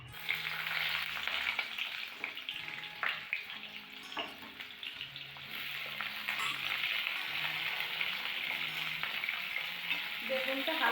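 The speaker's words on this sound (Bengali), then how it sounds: "বেগুনটা একটু ভেজে নেব" Eggplant fries in oil in a wok, a continuous crackling sizzle with stirring scrapes over a faint tonal background hum.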